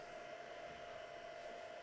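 A heat gun blows with a steady whir, a constant airy rush and a tonal whine, quiet and unchanging.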